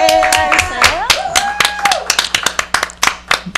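A local tonight-show studio audience claps in a run of sharp, close handclaps, with a whistle and a voice near the start.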